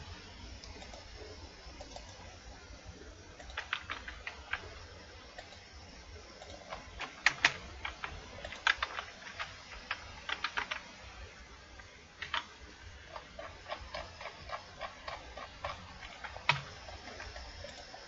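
Typing on a computer keyboard while working in MS Word, with irregular bursts of quick light key clicks close to the microphone and short pauses between runs, at a fairly low level.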